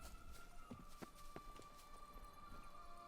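Geralt's horse Roach in The Witcher 3 moves along with a quick run of hoof clops, faint and fairly close, over a soft ambient background, with no voices.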